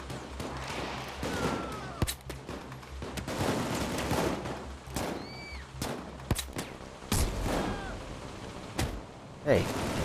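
Bursts of light machine gun fire from Payday 2, the gameplay sharp broadband cracks spread irregularly across the stretch, close and loud, with voices talking over parts of it.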